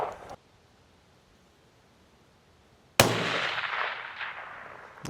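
A rifle shot at an outdoor shooting range with steel targets, one sharp loud report after a quiet stretch, then a long decaying echo and a faint second hit near the end.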